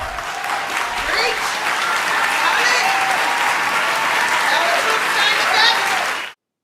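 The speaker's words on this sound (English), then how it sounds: "People are cheering for that?" Dense, continuous applause and cheering from a large awards-show audience at the Golden Globes, loud and steady for about six seconds with scattered whoops and voices rising above the clapping before it cuts off abruptly.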